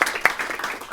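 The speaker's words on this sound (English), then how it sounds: "clap for Tom" At a live panel discussion on self-employed wealth-building, an audience claps briefly, a short patter of scattered hands with a few sharper individual claps.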